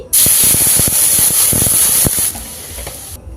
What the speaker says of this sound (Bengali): এই কড়াইয়ের মধ্যে আবারও কিছুটা জল দিয়ে দিচ্ছি